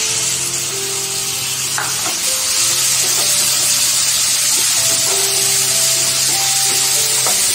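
Chopped onion and tomato sizzling steadily in a hot pan for Amritsari chhole masala gravy, a loud constant fry hiss with occasional scraping stirs of the spoon, close up and without talk.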